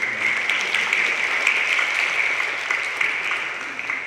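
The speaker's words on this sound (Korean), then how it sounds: "박수로 환영해 주십시오" Conference audience at a Jeju peace forum applauds to welcome a guest, a continuous even wash of clapping from a large room, steady and moderately loud throughout.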